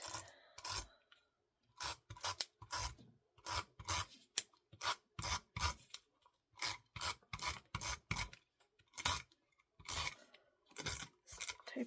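Tape runner applying adhesive to scrapbook paper, a series of short, quiet rasping rubs in quick irregular bursts with brief pauses between, close up and alone.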